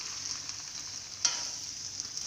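Macaroni and vegetables being stirred in a hot pan, a steady sizzle and frying hiss with one soft scrape of the spoon midway, close and fairly quiet.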